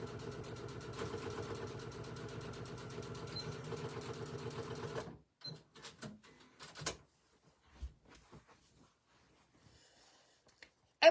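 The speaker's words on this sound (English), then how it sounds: "now I'm going to stitch across with a 1/2 inch seam" A sewing machine stitches a half-inch seam across a fabric catnip toy, a fast even mechanical whirring for about five seconds that stops abruptly, followed by scattered quiet handling clicks and knocks.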